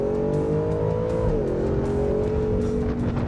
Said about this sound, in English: We're gonna stall it up, launch it in 4 high, and here we go.